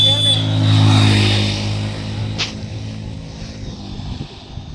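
A motorbike engine passes close by, its loud low drone swelling early and then fading away, with voices talking over it.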